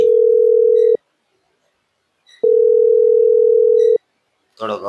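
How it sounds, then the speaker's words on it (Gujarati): A phone ringback tone sounds on an outgoing call as two long, steady electronic tones separated by a silent gap, followed by a brief voice. "રિંગ ગઈ."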